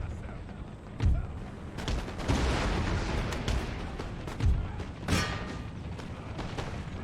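Artillery firing carcass shot in the Empire: Total War video game, with booming cannon blasts and rumbling impacts spread over a dense, continuous battle din.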